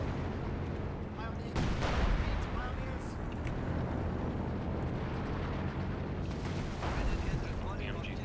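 Artillery fire in Company of Heroes 2, with heavy booming impacts and rumbling shell blasts over a dense battlefield din, two strong hits standing out among softer distant shots.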